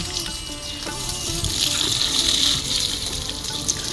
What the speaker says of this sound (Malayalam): ഞാൻ ചെടികൾക്കൊക്കെ ഒന്ന് വെള്ളം ഒഴിച്ചു കൊടുത്തുകൊണ്ടിരിക്കുകയാണ്